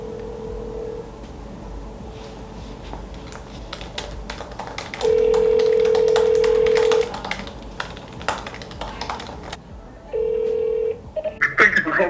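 A telephone call being placed: keypad tones and background clicks, then two long ring tones separated by a pause, followed by a hold-line chime near the end.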